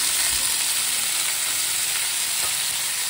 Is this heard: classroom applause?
no